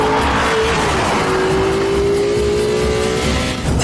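A 2005 Maserati Quattroporte driven hard on a road: loud, close engine revving at high, steady pitch, with tire noise underneath and no talking.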